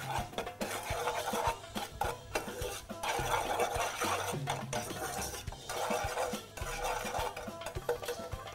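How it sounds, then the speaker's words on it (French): Sugar being stirred into a mixture in a bowl for a Moroccan chicken tajine, with a steady run of scraping and rubbing strokes and light clinks of utensil against the bowl, close and continuous, with no talking. "Je mélange le tout."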